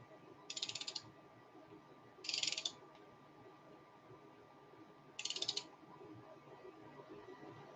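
A torque wrench ratchets in three short clicking bursts while tightening engine head bolts on a 1.8T engine build, fairly quiet against a faint steady hum in a workshop.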